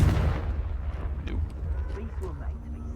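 A Confringo fire spell blasts in Hogwarts Legacy, a booming burst at the start that quickly decays into a low rumbling tail, with fainter game sounds scattered after it.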